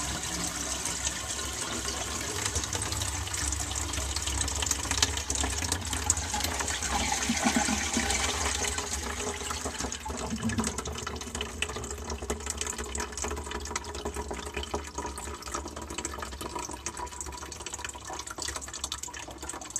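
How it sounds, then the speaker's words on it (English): A 1948 Standard compact toilet flushes and refills, with a sustained rush of water and gurgling flow that fades slightly, then continues as a steady refill trickle, close and alone. "Now we'll flush the toilet and see how much water comes back."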